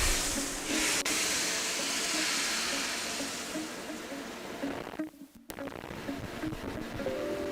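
Sauce reduces in a hot wok with a steady, loud bubbling hiss of steam that runs throughout, briefly dipping with a clatter near the end before the sizzle resumes.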